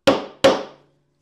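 Two sharp, loud hammer blows drive a square wooden peg fully home into its hole, each strike ringing briefly before fading, evenly spaced with silence after.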